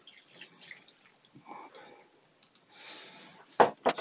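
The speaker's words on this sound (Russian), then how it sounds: "а сюда заливаем просто воду" Water is poured into a triple bag prepared for quick shashlik in an air fryer, making a soft, uneven trickle with a few sharper splashes near the end.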